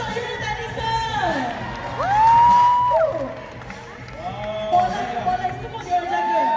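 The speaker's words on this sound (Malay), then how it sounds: "Mana tepukan untuk unit teknikal?" A crowd at a student mock trial event cheers, with shouting and whoops over scattered clapping, loud and lively, and voices calling out above the noise.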